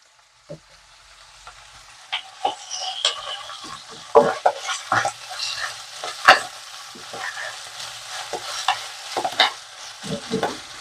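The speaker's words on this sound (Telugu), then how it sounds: "ఇలా కొంచెం పచ్చివాసన పోయేంత వరకు ఫ్రై చేసుకొని" Ginger garlic paste frying in a pan for a drumstick and tomato curry, a steady low sizzle under repeated stirring scrapes and clinks of a spoon, close and moderately loud, no talking.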